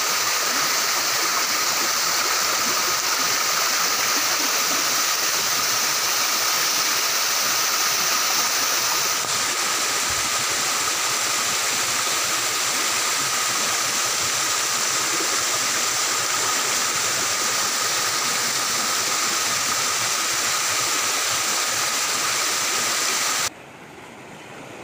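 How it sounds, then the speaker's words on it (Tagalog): A waterfall on a titled rural land lot produces a steady, loud rush of falling water that runs unchanged for the whole stretch, with no voices. "mayroon po siyang waterfalls inside"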